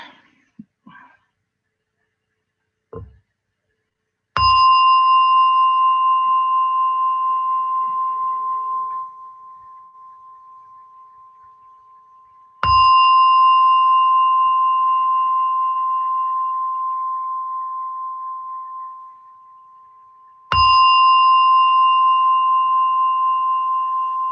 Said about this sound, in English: So as I hit the gong, let's practice.